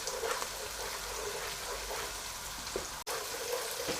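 Chicken tikka frying in a pan over a medium-high flame gives a steady, close sizzle with soft popping, broken once by a very brief dropout near the end.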